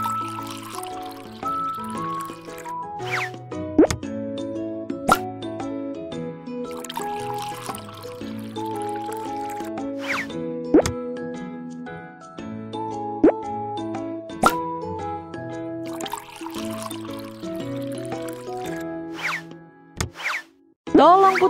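Liquid pours into a box in a cheerful BabyBus children's game, with a run of bubbly plopping sounds over a bright melodic music track and a narrator's voice.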